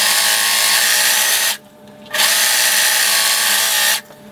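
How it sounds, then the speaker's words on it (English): A serger or sewing machine zigzag-stitching a T-shirt seam runs with a loud, dense buzzing hum, pausing briefly midway before starting up again and then stopping. "you're going to sew this seam with a zigzag or a serger"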